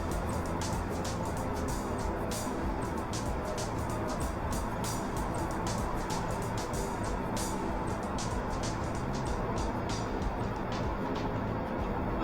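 Cabin noise inside a 2017 Seat Ateca 1.4 L EcoTSI cruising at about 100 km/h on a standard road: a constant, even broadband road and engine hum with no voices, steady throughout.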